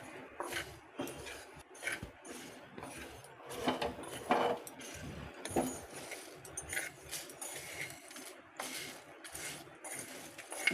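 Roasted spices for kasundi are stirred in a pan with the gas switched off, producing light scraping and clinking of a metal spoon in irregular strokes, fairly quiet and close.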